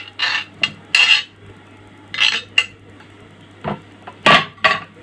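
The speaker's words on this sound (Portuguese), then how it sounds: "E vou continuar misturando mais um pouquinho." A spoon stirs chopped onion into a mixture in a pan, giving bursts of metallic clinks and scrapes in uneven clusters under a low steady hum, close by and without speech.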